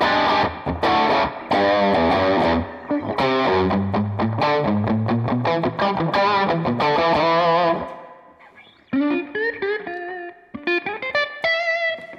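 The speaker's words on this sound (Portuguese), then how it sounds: "aquele reverbzinho contido. Tá bem, ó. Reverbzinho de mola." An electric guitar played through a Line 6 POD Go with a bluesy crunch tone and restrained spring reverb plays loud, close chords and single-note lines, then a quieter melodic phrase after a brief pause.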